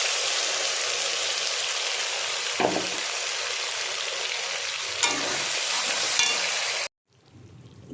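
Ground spice paste with cumin seeds and whole garam masala frying in ghee and oil, a steady loud sizzle with occasional scrapes of stirring, ending abruptly into quieter low crackle.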